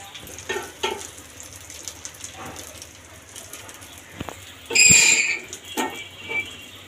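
An egg fries in a pan with a soft, low sizzle, punctuated by a few scrapes and a louder burst of crackling midway, while a dove coos faintly in the background.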